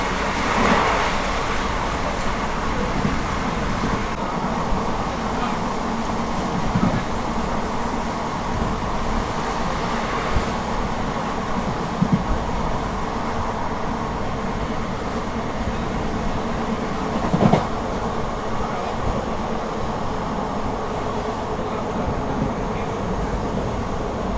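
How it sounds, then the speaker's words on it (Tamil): Express train running at 110 km/h between Tiruchy and Erode, a steady loud rumble of wheels and carriage noise heard from inside, with faint rhythmic clacks over rail joints throughout. "நம்ம ட்ரெயின் போகிற ஸ்பீடை பார்த்தீங்கன்னா 110 ஈக்குவலாக போய்கிட்டு இருக்குங்க."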